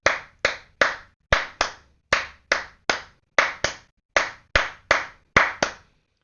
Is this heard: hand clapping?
yes